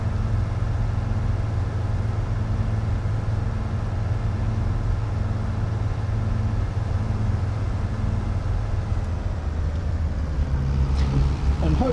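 A video game tractor engine drones steadily and loudly while pulling a tree planter, a continuous low rumble with little change until a brief shift near the end.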